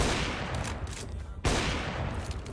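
A single loud, sharp AWP sniper rifle shot in a first-person shooter video game, cracking out abruptly over a steady background of game noise, with no speech.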